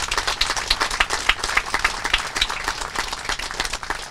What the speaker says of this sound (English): Please give them all the well-deserved round of applause.